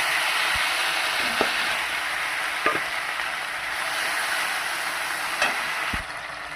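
Ginger, garlic and onion paste hits hot oil in a pan with a steady, continuous sizzle, cooking a Bengali prawn malai curry, with a few light clinks of a stirring spoon against the vessel.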